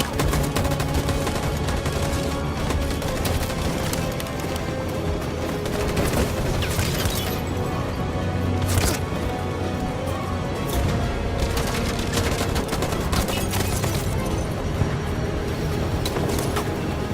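Sustained gunfire battle in the video game Detroit: Become Human, with dense overlapping automatic bursts and loud shots rolling continuously without pause.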